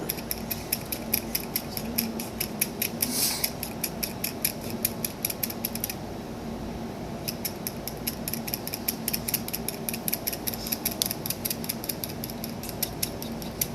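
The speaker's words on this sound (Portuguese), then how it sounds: "eu pego o meu estilete, deito a lâmina dele e venho, ó, suave, desde lá da raiz até a coroa" A steel stylet blade scrapes lightly over a carved wax upper central incisor in quick, close, rhythmic strokes, a fine dry scratching that repeats steadily with a brief pause partway through.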